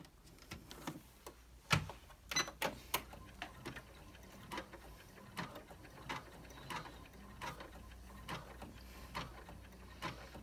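Home embroidery machine stitching across the top of a pocket on an in-the-hoop credit card wallet, a fast steady run of clicking, ticking needle strokes with a few louder knocks, close and moderately quiet, with no talking.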